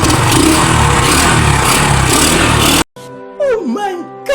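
A Yamaha STX 125 motorcycle fitted with a Mio Amore CDI runs loudly and close, a dense steady engine roar that cuts off abruptly before someone talks.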